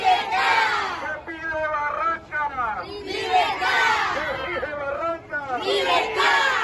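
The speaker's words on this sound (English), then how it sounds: "The crowd chanted for Luis Manuel Diaz's release." Crowd at a community march calling for the release of kidnapped footballer Luis Manuel Diaz's father, voices chanting together in loud rhythmic phrases that rise and fall in repeated bursts, close and outdoors.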